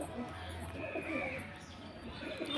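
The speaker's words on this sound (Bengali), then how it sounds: "এই দেখেন আমাদের ছাদে কতগুলো পেয়ারা" Pigeons on a home rooftop coo softly in low, repeated murmurs, faint and close, with some light background noise and no clear talk.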